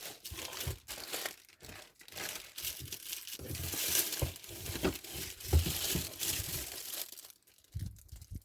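Parcel packaging crinkles and crumples as it is torn open for unboxing, with bursts of rustling and tearing plastic coming and going in short handfuls, fairly close and quiet, no talking.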